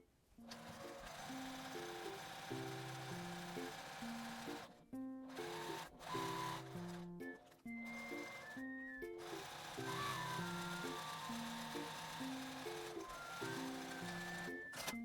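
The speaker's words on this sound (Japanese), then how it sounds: "両端を縫います" Sewing machine stitching both ends of an unlined eco bag, a steady rapid mechanical whir in near continuous runs with a few brief pauses between seams.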